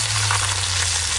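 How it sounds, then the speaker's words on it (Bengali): Fish sizzling steadily in hot oil in a pan, a dense continuous frying hiss with a low hum underneath, close and alone with no talking. "এই মাছগুলো দুবারে ভেজে নেব"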